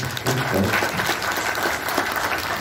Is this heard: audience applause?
yes